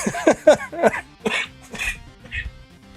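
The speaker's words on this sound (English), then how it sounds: "my cough is coming back" A person coughs repeatedly in a quick, rough burst, then clears their throat a couple of times, close and fairly loud.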